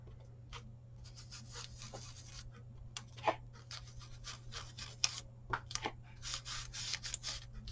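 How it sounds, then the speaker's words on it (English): A card for an index card foldout craft is rubbed with sandpaper in quiet bursts of scratchy strokes, uneven in rhythm, with a few sharper scrapes and a low background hum, and no one talking. "I wanted to sand this first. Kind of get it roughed up a little bit"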